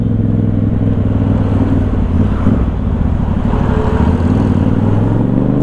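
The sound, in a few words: motorcycle engine running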